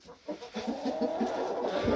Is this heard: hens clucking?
yes